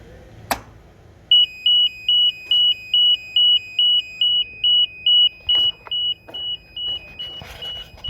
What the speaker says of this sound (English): The alarm sounds from 1 second on and 1 second off continually.